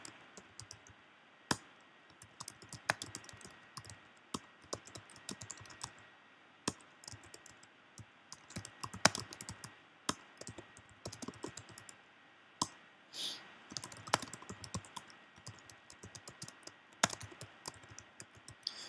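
Someone types text on a computer keyboard at a quiet desk, with soft, irregular key clicks tapping along in short bursts and brief pauses between them.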